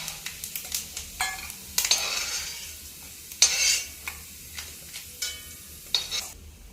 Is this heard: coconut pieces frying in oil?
yes